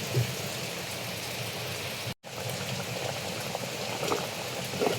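A pot of fish curry bubbles steadily in its spice paste, a dense, continuous simmering crackle heard up close, with a brief dropout partway through and no voices.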